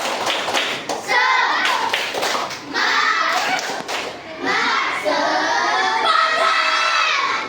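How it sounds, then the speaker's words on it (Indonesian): Children in a classroom perform a rhythmic encouragement clap, a patterned series of loud, close hand claps and thumps with young voices chanting along throughout. "Tepuk semangat."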